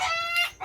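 A hen clucks right after laying an egg, a short, loud, close burst of harmonic clucks that cuts off quickly.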